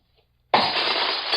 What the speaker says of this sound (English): I'll break the glass in.